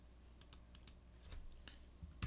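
Short bursts of keystrokes on a computer keyboard as a value is typed, several quick clicks spaced irregularly, close and fairly quiet with no talking.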